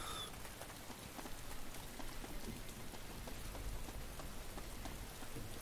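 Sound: rain in the video game DayZ

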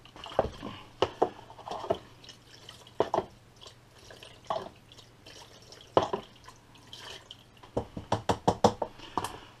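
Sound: rinsing gunk off an electrical unit switch

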